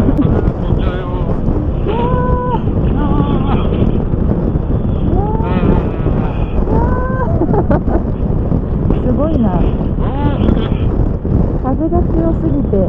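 Strong gusts batter a microphone on a motorcycle outing, a loud constant low roar and rumble through the whole stretch, with people talking over it.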